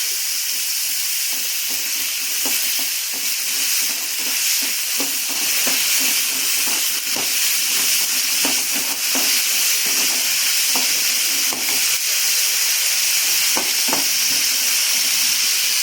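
Sizzling and frying from a spoonful of oil in a pan while sautéing for a home-style chicken curry, a steady bright hiss with scattered crackles and pops throughout, close and fairly loud, no talking.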